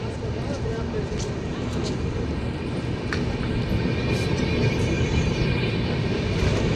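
The 13010 Doon Express running after leaving Panagarh station, a steady rumble of wheels and carriages close by, with a voice talking over it.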